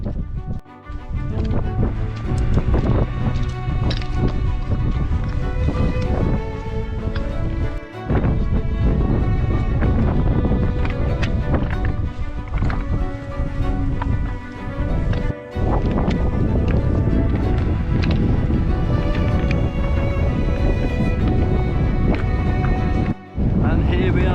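Strong autumn wind on Ben Nevis roars and buffets loudly and continuously for the whole stretch, with brief gusty dropouts and faint voices underneath.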